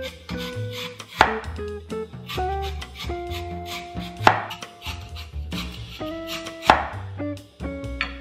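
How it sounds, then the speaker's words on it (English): A knife cuts peeled lotus root into slices on a board, with a steady series of close crisp chops and a few heavier, sharper strikes. "Peel it and cut it into slices."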